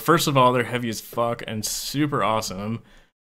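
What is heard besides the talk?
No everyday noise stands out behind the speech.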